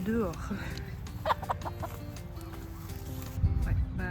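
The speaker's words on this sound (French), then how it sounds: "Les poules, elles sont dehors." Farm hens kept outdoors cluck and murmur intermittently at moderate distance, with a louder burst of clucking near the end, while a person talks over them.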